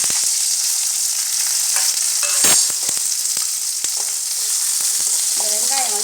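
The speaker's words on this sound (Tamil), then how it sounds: "இந்த வெங்காயம் வந்து நல்லா பச்சை வாடை போக நல்லா வதங்கணும்." Onions and green chillies fry with cinnamon, cloves and fennel in a pan for Sunday chicken kulambu, a bright continuous sizzle broken by several sharp spatula clinks and scrapes.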